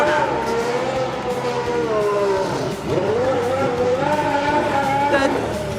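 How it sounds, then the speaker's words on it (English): A Ferrari race car spins a double donut, its engine wailing loud and close, rising and falling in pitch with smeared tire skid noise beneath. "This is a double donut."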